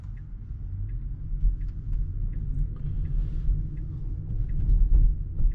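A car passes close by a stationary Tesla waiting at a junction, a low rumbling whoosh that builds and fades over a few seconds.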